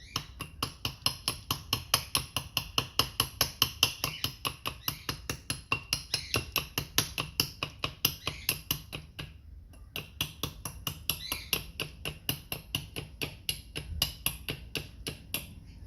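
A William Collins knife chops into wood to chip out excess material, with rapid, regular knocking strikes repeating about twice a second, close and fairly quiet, with a brief pause midway.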